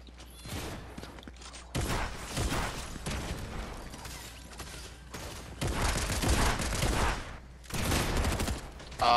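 Gunfire in the battle royale game Fortnite: bursts of rapid automatic shots in several loud clusters, broken by short pauses, with no talking over them.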